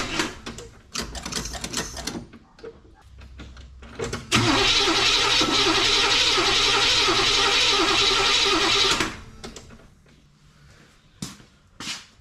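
A 1979 Chevrolet El Camino SS with an untouched carb and off timing cranks in a rapid, uneven chatter for a few seconds. Its engine then catches into a loud, steady, rough idle that cuts off after several seconds, with a few clicks after.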